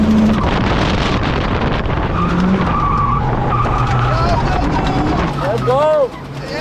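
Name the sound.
Mercedes tyres screeching while drifting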